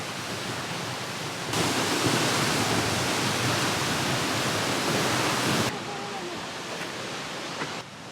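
A large Icelandic waterfall roars as a loud, steady rush of falling water, surging even stronger for a few seconds in the middle before settling back to a constant heavy drone.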